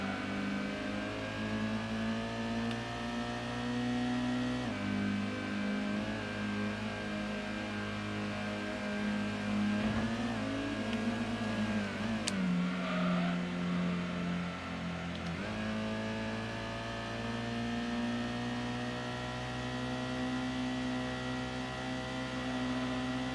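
A Gran Turismo 1 car engine revs steadily through the gears, its pitch rising and then dropping sharply at each shift. The tone is a continuous, even mid-range drone with no voices over it.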